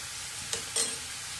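Ash gourd fries with ginger in a pan for a Bengali village-style curry, with a steady sizzle under two quick scraping stirs.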